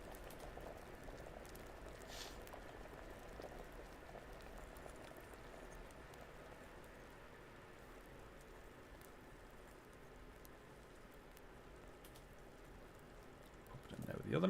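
Alchemy liquid boiling steadily at the alchemy bench in Kingdom Come: Deliverance, a continuous soft bubbling hiss that holds for the whole stretch, with a louder rustle at the very end.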